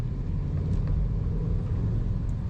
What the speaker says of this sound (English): Mash on the gas.